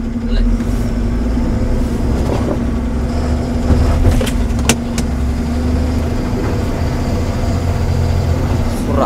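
A loaded truck in an orange-packing yard is stuck with its tires spinning in thermocol packing waste. A loud, steady engine drone with a low tonal hum runs throughout, and voices talk beneath it.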